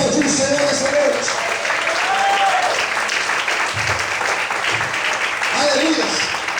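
Sustained applause from a church congregation during an evening sermon, steady dense clapping filling the room throughout, with a voice briefly rising above it near the start and again toward the end.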